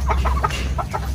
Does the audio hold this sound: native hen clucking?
yes